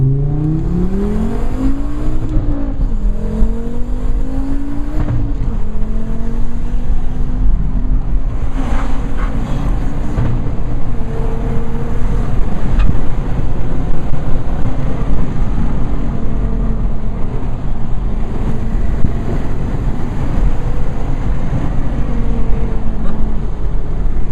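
A Volvo 4T4 fitted with a production turbocharger accelerates hard, its engine note climbing in pitch and pulling steadily under heavy wind rush from the moving car.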